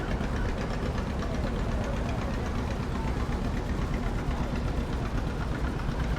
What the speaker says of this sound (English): Looks like we've got a line of tractors from Grant's farm.